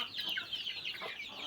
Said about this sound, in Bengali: এই হলো আমার মুরগির অবস্থা।